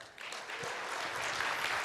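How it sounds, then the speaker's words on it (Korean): Audience applause at an industrial security conference after a presentation ends, a steady dense clapping that holds evenly throughout at moderate distance. "여러분 다시 한 번 더 아낌없는 박수 부탁드리겠습니다"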